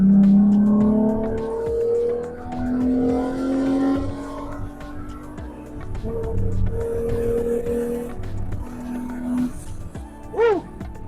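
A 2016-23 Toyota Tacoma V6 fitted with a WEAPON*R intake accelerates through several gears, its throaty engine note climbing and dropping with each shift, loud and close inside the cab, with a person talking over it at moments.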